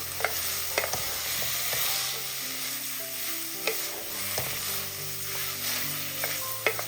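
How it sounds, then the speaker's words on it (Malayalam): Crushed shallots, ginger and garlic sizzle steadily in a hot pan for an egg dish, with scattered clinks and scrapes of a spoon stirring them close by. "എല്ലാം കൂടിയിട്ട് ഒന്ന് ഇളക്കി കൊടുക്കാം"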